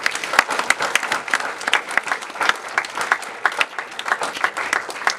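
A church congregation bursts into sustained applause, many hands clapping densely and steadily from nearby, loud and continuous throughout with no talk.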